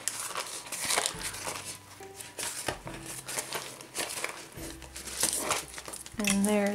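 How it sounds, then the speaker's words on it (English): Parchment paper being peeled and crinkled off a block of handmade soap, close rustling and crackling bursts, with a person talking through it. "And then we'll just take off the parchment paper."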